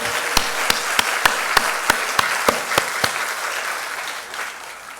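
Applause rings out from a church congregation during a testimony service, a rhythmic run of about ten sharp, loud, evenly spaced claps that then fade into a softer, scattered patter of clapping.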